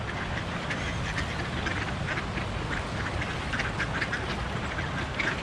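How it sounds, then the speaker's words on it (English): Half-wild pet ducks quack at backyard bird feeders, a dense overlapping chorus of repeated quacks over a rumbling background noise, steady and fairly close, with no one speaking. "Never had cool ducks like this. I always wanted to have pet ducks."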